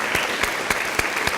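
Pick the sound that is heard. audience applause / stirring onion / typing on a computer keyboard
audience applause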